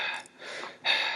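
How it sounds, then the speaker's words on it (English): A performer voicing Sebastian the crab from The Little Mermaid breathes heavily, giving two sharp, airy gasps separated by a brief lull, close to the microphone and without speech. "Sebastian, you seem to be breathing pretty heavily, my friend."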